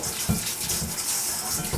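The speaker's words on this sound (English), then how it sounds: "So I'm going to rinse these off with some hot water." Carrots rinsed under a running hot-water tap, a steady, close rush of water with soft irregular splashes as the vegetables move through the stream.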